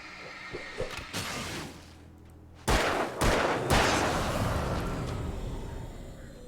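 Gunfire in Alan Wake: a few sharp scattered shots, then a pause and several heavy, booming blasts close by that ring out and decay into a rumbling tail.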